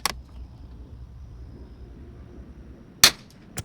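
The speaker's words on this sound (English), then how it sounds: "Forgot I'm not shooting suppressed anymore." An unsuppressed Savage Mark II .22 LR rifle fires at an outdoor range: a sharp crack at the start, a louder crack near the end, and a fainter snap just after it, over a low background rumble.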